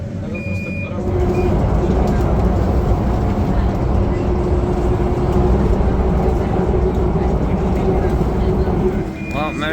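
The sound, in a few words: train ride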